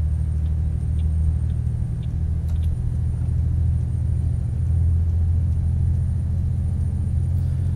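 A Freightliner FLB heavy-haul truck with a Detroit Diesel engine in American Truck Simulator, a steady deep diesel drone and low rumble pulling under load, loud and close, with faint ticking above it.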